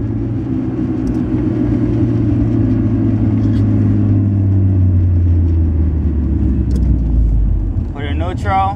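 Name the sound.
manual 5-speed car downshifting while braking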